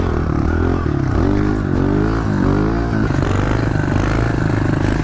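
A Honda CRF125 pit bike engine revs hard during a race, loud and close, its pitch rising and falling through repeated throttle bursts with a continuous rattling drone.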